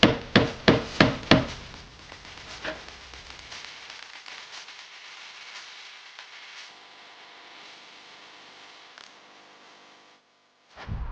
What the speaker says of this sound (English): A hammer and a chisel is good for splitting seams of car metal apart.